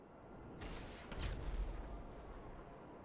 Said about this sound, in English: All you have to do is tilt down, shoot the missile, and then head straight back up.